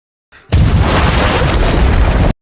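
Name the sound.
explosion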